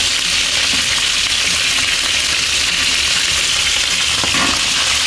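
Fish frying in a non-stick pan crackles and sizzles loudly and steadily up close, a dense continuous spatter with no talking over it.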